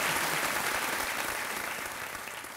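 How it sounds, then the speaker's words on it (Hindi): A studio audience on the KBC game show applauds a contestant who has just won 12,50,000 rupees, sustained even clapping at moderate distance that slowly tapers off. "एक बार तालियां बज जाएं दीपक के लिए"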